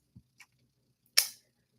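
Buttons on a Nikon Coolpix 5000 digital camera are pressed: two soft, quiet clicks, then a sharper, louder click with a brief decaying tail, all heard up close.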